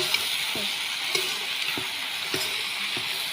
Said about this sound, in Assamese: ইফালে আমাৰ ভাজি বনালোঁ আৰু ভাজিখিনি মই লৰাই দিছোঁ